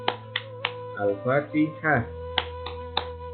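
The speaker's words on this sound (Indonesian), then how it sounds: "Kita akan bertepuk tangan bersama ya." Rhythmic hand-clapping game for a children's Islamic lesson: three sharp claps, then a pause for spoken chanting, then three more evenly spaced claps, close and crisp.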